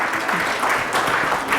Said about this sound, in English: Everyone, applause, please.